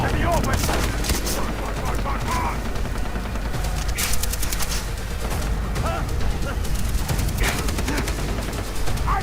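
Rapid bursts of gunfire in the video game Far Cry 3 crackle throughout, dense and continuous, with excited voices talking over the shooting.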